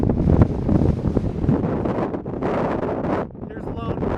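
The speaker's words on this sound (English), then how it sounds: "It's just too windy." Strong wind gusts buffet the microphone on an exposed mountain summit, a loud continuous roar with surging blasts that dips briefly near the end before rising again.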